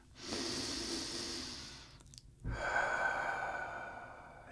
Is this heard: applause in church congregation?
no